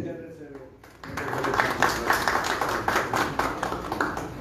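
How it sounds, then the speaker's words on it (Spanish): Applause at an evening press conference for the 13th Cricol Marathon: after a quiet opening second, a room of hands claps steadily and moderately loud under a murmur of voices. "Fuerte el aplauso."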